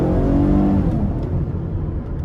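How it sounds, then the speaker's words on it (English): A 2014 Chevrolet Camaro 2LS with a V6 engine revs under light throttle, a steady loud close engine drone that rises and then settles back toward idle, with no voices. "Give it a little throttle here."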